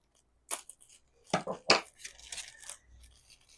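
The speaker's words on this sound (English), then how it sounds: "I cut the sides because it's hard to reach around" Scissors snipping the sides of a clear plastic sandwich baggie, with a few close, crinkly crisp bursts of cutting and rustling plastic in an otherwise quiet space.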